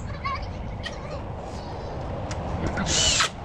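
A power drill drives screws into pallet wood while a chicken coop with barn doors is being built, a short whirring burst near the end over steady outdoor background noise.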